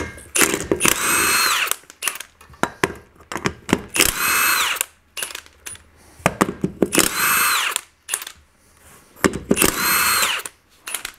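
A power tool fitted with a 3/4 inch socket spins off the wheel nuts of a 2005 EZGO TXT gas golf cart, sounding as loud, close bursts of whirring and buzzing in repeated runs separated by short pauses and clicks.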